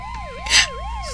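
A police car siren wails nearby in steady rising and falling sweeps, broken midway by a short, harsh noisy blast, with no voices over it.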